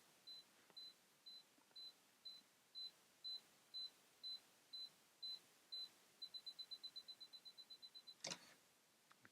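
A Canon EOS 300 film camera's self-timer beeps close by, a dozen evenly spaced high beeps that then speed into a rapid run before the shutter clicks, in a quiet room.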